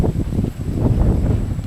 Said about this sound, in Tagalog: Maghapon na ganito kalakas yung hangin